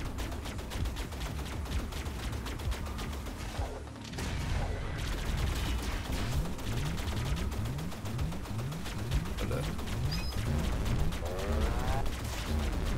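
Rapid repeated weapon fire from the twin-stick shooter video game Assault Android Cactus runs in dense bursts with mechanical effects, continuous and busy throughout the gameplay.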